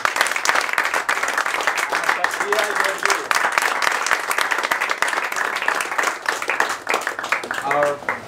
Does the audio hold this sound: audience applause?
yes